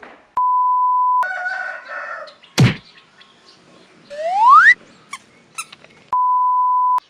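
A fighting rooster crows once at a farm between loud electronic beeps at the start and end, followed by a rising squeal and a few sharp clicks.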